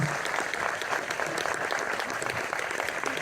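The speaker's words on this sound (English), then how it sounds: "Let's have a big round of applause." Audience applause at a movie Q&A with the director of Beverly Hills Cop: Axel F, a dense, steady round of clapping from a crowd filling the room.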